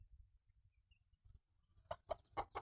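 Tiny chicks give faint, quiet peeps, then a few sharper chirps close by near the end, against an otherwise near-silent background.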